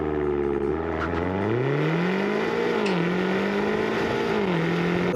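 Race cars in a Cars video game, an engine continuously droning and revving with gliding pitch shifts as gears change, loud and sustained without pause.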